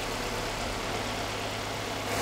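A Ford Cosworth turbo engine idles steadily, a close, continuous low rumble with an even hum and no voices over it.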